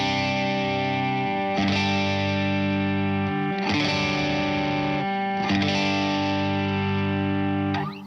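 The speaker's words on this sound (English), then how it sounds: "you're gonna hear that it's a very reactive drive" Electric guitar chords played through a reactive overdrive pedal, strummed in sustained blocks that swell and crunch harder with each attack.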